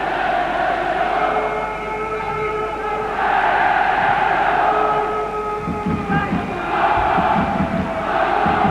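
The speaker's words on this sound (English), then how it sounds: "And the crowd in wonderful spirits here. The chanting from Parma." Parma football supporters chant in a packed stadium at a 1997-98 Champions League match against Sparta Prague, a loud, sustained, rhythmic roar of massed voices that swells in waves, with a commentator talking over it.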